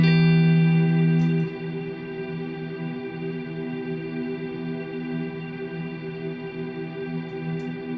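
Guitar chord held under a frozen reverb from a Strymon BigSky pedal, a loud strum that settles into a steady, sustained shimmering drone with no pause.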